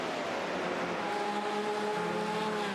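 Race car in a sim racing game accelerating and climbing at the Nürburgring, a steady engine drone with rising harmonic tones held close and loud throughout.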